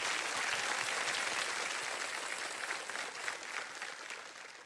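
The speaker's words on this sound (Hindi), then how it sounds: "एक बार तालियां बज जाए उनके" Steady, dense audience applause at a felicitation event honoring a tribal young man who won 50 lakh rupees on KBC, sustained at full strength before tapering slightly toward the end, with no talking over it.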